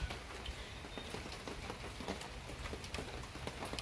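Rain patters steadily on a sagging tarp and surrounding surfaces on a wet day, a dense, even hiss of drops with faint scattered taps, moderately quiet and with no voices.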